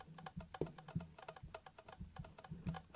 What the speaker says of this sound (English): it's a keyboard